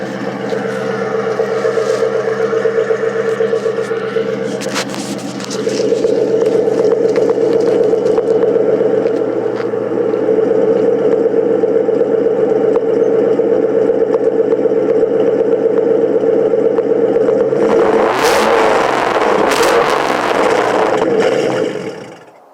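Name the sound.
2001 Ford Mustang GT engine cold start, idling and revving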